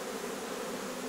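Honey bees buzzing steadily as a beekeeper shakes them down into a hive during a migratory apiary move, with Carniolan and Buckfast colonies; a continuous dense hum with no talk.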